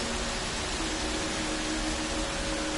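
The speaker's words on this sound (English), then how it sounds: "it's all the white noise." Steady broadband white-noise hiss, like wind or rushing air, from the ambient soundscape of the video game Dear Esther, constant and fairly loud throughout with a faint low hum beneath.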